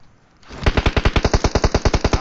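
Rapid automatic gunfire in the mobile battle royale game PUBG Mobile, a loud burst of evenly spaced shots in quick rhythm that begins abruptly after a brief quiet moment.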